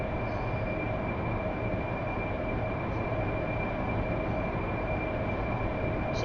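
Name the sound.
AV-8B Harrier jet taking off, flight simulator video game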